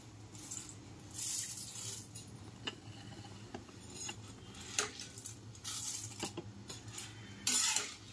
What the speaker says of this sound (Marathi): ढवळतच राहायची चमच्याने, नाहीतर मग ती करपून जाईल ना